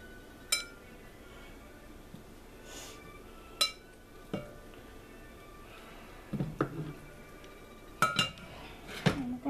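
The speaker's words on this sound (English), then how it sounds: "Alright, so now let's get it to the cutting board." A crockpot-cooked turkey breast being shifted onto a cutting board, heard as scattered clinks and knocks of utensils and dishes, with a few louder clattering bursts near the end against a quiet kitchen background.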